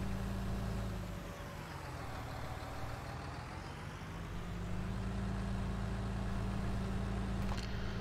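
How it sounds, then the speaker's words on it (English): A steady, heavy crawler tractor engine drone in Farming Simulator 19, with a deep rumble and constant whine, briefly dipping in pitch as it works, then holding steady. "with the crawler tractor, I've adjusted the sound on it already"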